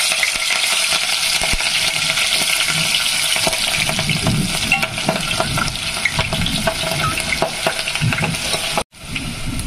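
Sliced onion and green chilies hitting hot oil in a pan for fish curry, a loud, crackling sizzle with stirring clatter, steady and close, cutting out briefly near the end.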